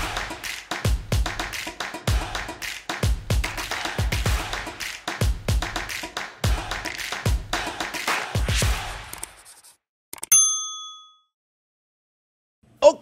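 A single bright notification bell ding rings out on a French chef's cooking channel, following a run of rhythmic tapping beats and then hanging alone with a clear ringing tail before a final click.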